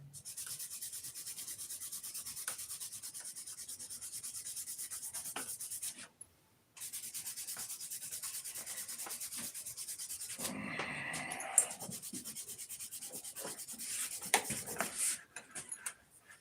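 Paint is sanded off car parts in steady, faint rubbing strokes with a brief pause partway through and a few clunks near the end.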